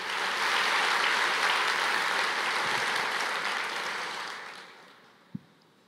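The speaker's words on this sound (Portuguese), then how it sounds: "aplauda ao Senhor" A church congregation applauds together after a call to praise, a broad steady wash of clapping that holds strong for several seconds, then thins and fades, ending with one sharp knock.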